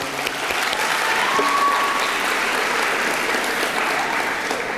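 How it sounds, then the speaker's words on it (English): A school assembly audience gives a steady, sustained round of applause, dense and even throughout, with a faint whistle-like tone briefly audible over the clapping. "let's give Mr. Mercandani a big round of applause."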